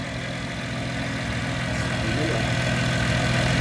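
A car engine idles steadily under the open hood, a smooth, even mid-low hum that stays close and constant and grows slightly louder toward the end.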